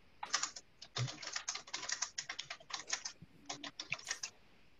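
Rapid clicking of someone typing on a computer keyboard during an online group meeting, faint and steady with brief pauses, no talking over it.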